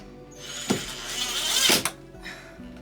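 A power drill pre-drills holes around a window in two short bursts, with a rising whine and clunks at the start and end of each run, close up.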